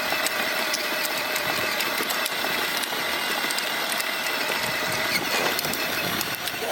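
An electric toy excavator backhoe runs its small motor, a steady close whirring hum with faint rattling that continues evenly throughout, with no talking over it.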